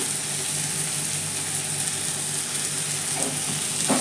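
Ground spices such as chili powder, curry masala, coriander powder and turmeric sautéing in hot oil for a drumstick coconut milk gravy, a steady close sizzle with light stirring throughout.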